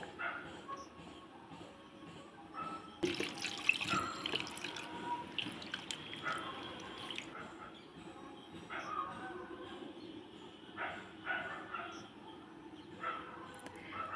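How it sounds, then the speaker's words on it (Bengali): Cumin seeds being rinsed in a bowl of water, with the water changed twice: faint splashing, drips and tap-like pouring come in bursts, with occasional distant barking and no speech. "আমি দুবার জল পাল্টে ধুয়ে নিচ্ছি"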